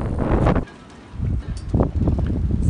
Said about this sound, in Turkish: Rüzgar da fazla, 25-30 knot aralığında seyrediyor.